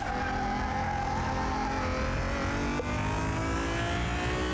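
Nissan GT-R engine in Car Mechanic Simulator 2021, a steady, loud racing-car drone with rising revs and a faint tire squeal, continuous and without talk.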